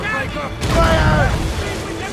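Ship cannons firing during a naval battle in Assassin's Creed Rogue: a deep booming blast rolls in under shouting voices, loud and close, then trails off into rumbling noise.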